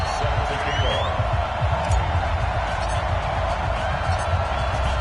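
A steady roar of home-stadium crowd noise in the football game Madden 2020 before the Dolphins face the Browns, a constant loud wash of cheering with scattered whistles and whoops under it.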